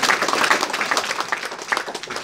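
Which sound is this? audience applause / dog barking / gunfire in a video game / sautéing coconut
audience applause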